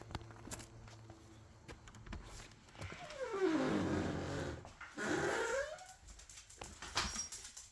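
Dogs growl and whimper nearby in a temporary home after Hurricane Helene, with rising and falling whines, soft grumbles and a few small movement sounds between them.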